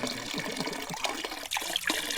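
Water gushes strongly from a faucet on a DIY water line at a farm, a steady hissing splash that fills the clip, with a brief dip midway before the flow surges back.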